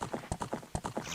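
Epona's hooves clip-clop in a steady, fairly loud trotting rhythm across a Zelda video game field, each strike sharp and close with faint ambient tone between.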